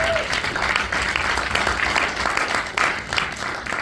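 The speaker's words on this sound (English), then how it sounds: "Yes, clap your hands for them." A crowd at a Haitian American heritage event applauds the Tuskegee Airmen, loud sustained clapping with a few louder bursts throughout.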